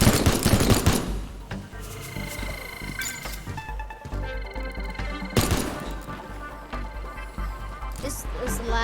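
Robot gunfire in the video game Teardown: rapid machine-gun bursts and sharp shots with crashes and impacts, loud and dense, under occasional talk.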